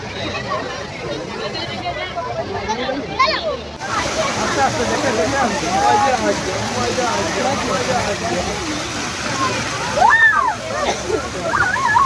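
People splashing and sloshing in water while bathing, with a steady wash of splashes, a sharper burst near the end, and voices chattering in the background.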